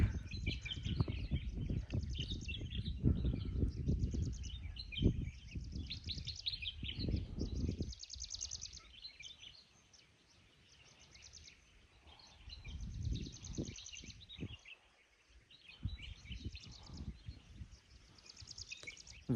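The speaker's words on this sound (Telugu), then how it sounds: "విన్నారు కదా ఎంత పీస్ఫుల్ వాయిస్ అయితే వస్తూ ఉంది బర్డ్స్ది" Birds sing and chirp in a quiet hill forest, bright repeated calls at moderate distance over low rustling wind that swells and fades, with near-silent gaps between.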